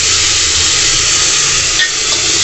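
Chopped tomatoes fry with asafoetida in a pan, giving a loud, steady sizzle and hiss that runs unbroken from start to finish, with faint stirring beneath and no talk.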